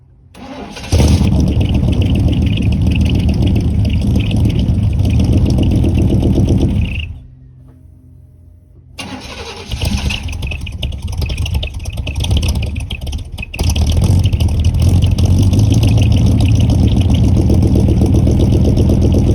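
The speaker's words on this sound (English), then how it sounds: "So we are going to see if the truck will start now." A Chevy OBS truck engine cranks and catches, then runs loud and rough, cuts out briefly and is restarted, settling into a steady, close idle with occasional surges.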